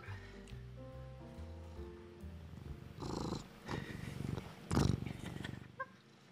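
A house cat purrs close up, a low rumbling vibration under background music and a few soft rustles and handling noises, growing louder toward the end.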